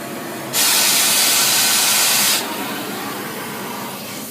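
A scarfing gas torch lights with a sudden loud, steady hiss of flame that holds for about two seconds, then drops back to a quieter background roar.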